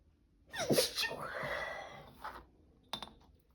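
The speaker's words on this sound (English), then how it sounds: "sneeze, pardon me." A single sudden sneeze with a sharp intake and burst, followed by a brief breath and a light click in a quiet indoor craft space.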